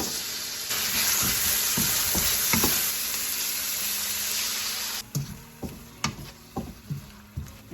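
Vegetables for a beef and celery stir fry sizzle in a pan with rice wine vinegar and sesame oil, a loud, steady hiss that drops abruptly midway, followed by several distinct stirring clacks.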